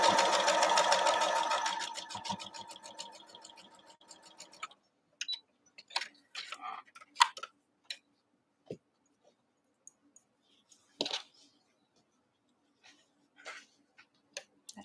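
A sewing machine stitches a seam on a Christmas tree quilt block, running in a fast, even rapid-fire clatter for about four seconds before stopping, followed by scattered soft clicks and fabric handling sounds.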